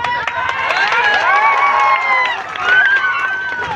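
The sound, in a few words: crowd clapping and cheering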